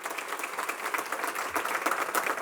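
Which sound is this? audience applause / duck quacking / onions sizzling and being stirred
audience applause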